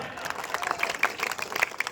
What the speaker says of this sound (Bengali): জাফিকুল ইসলাম তার জন্য জোরে হাততালি একটা